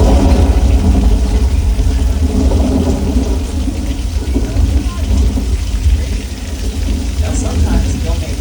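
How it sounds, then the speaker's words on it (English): Thunder played through speakers at the Flash Flood tram attraction on the Universal Studios tour, a loud continuous rumble mixed with heavy falling water, sustained throughout with crowd voices underneath. "We have strobe lights and speakers for thunder and music."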